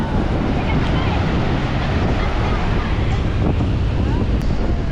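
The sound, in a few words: strong waves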